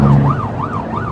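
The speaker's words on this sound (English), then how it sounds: "Sirens on." A police car siren wails in repeated rising-and-falling sweeps, loud and close on a motorway where traffic stands in a tailback, with road noise beneath it.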